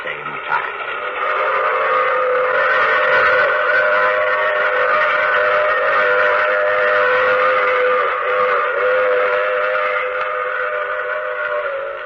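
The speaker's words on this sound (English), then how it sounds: "I take this same train every week at this same time." A passenger train sounding a long, steady, multi-tone steam whistle that holds loud and unbroken for the whole stretch.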